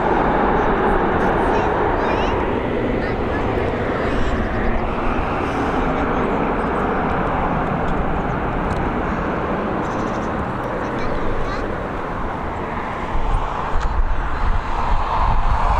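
An airliner arrives at Dublin Airport on a July evening, a steady broadband engine roar and rushing wind sustained throughout with a voice talking over it.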